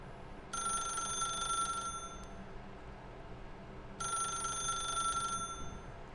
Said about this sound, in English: We might have to answer the phone.